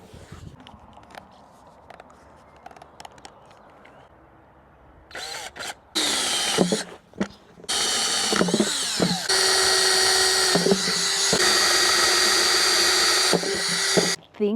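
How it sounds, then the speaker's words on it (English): A power drill bores drainage holes into a big plant pot during repotting of an extra large Monstera Deliciosa, starting after a quiet stretch with bursts of loud, sustained whining separated by short pauses. "Adding drainage holes."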